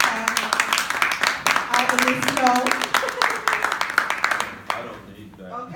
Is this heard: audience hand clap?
yes